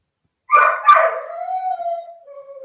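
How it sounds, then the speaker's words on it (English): A puppy lets out a short yelp followed by a drawn-out, wavering howl that fades, close and fairly loud against silence. "oh boy, that puppy sounds so unhappy"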